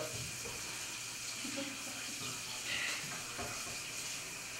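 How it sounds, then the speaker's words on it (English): A kitchen tap runs while hands are washed with soap before cooking smothered pork chops, a faint steady hiss of water with soft splashes and rubbing, with quiet voices in the background. "let's come over here and wash hands"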